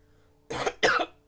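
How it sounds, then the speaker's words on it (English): A person coughs three times in quick succession, close and loud, with short harsh bursts and brief gaps between them. "Every time I talk too long, I get a cough."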